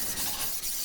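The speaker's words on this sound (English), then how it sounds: "I start hand sanding with 240" A bowie knife blade is hand-sanded with 240-grit Indasa Rhino wet sandpaper, giving a steady, close, hissing rasp with faint rhythmic strokes and no voices.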